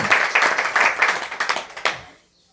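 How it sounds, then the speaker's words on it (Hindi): Applause from an audience at a satsang gathering held in a house in Markham, Canada: a short burst of rhythmic, fairly loud clapping lasting about two seconds before it fades out quickly. "जोरदार ताली।"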